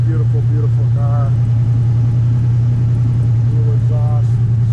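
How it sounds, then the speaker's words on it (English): A 1965 Pontiac GTO hardtop gives a steady, deep exhaust rumble that holds throughout, with a person talking over it close by. "Exhaust sounds fantastic."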